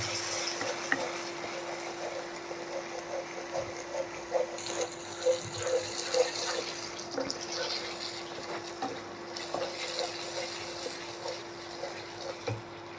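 A spoon stirs a thick cashew, poppy seed and almond paste into masala in a pan, with a steady low sizzle and soft scraping strokes continuing close up throughout.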